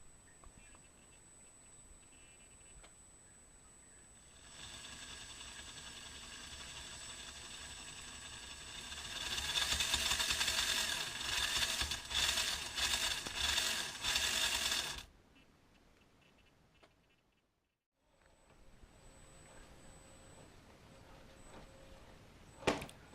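A 1/12 scale RC Land Rover Defender D90 with a metal transfer case, driving on a 370 gearmotor: a steady mechanical whine and gear hum that grows louder with a ratcheting buzz midway, then stops and resumes faintly.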